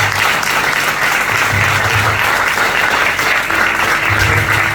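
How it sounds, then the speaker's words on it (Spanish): A church congregation claps steadily and loudly throughout a sermon, a dense wash of applause with no voices rising above it. "Den un aplauso al Señor, no se enoje."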